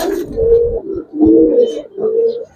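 Three rounds of close, low, rolling coos come from Giribaz pigeons offered for sale at a market, with short pauses between the bouts and no talking.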